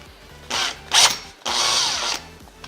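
A power drill bores holes in metal for seat mounts on a Super 7 Locost kit car, running in loud close bursts with a shrill grinding peak as the bit cuts, pausing briefly between runs.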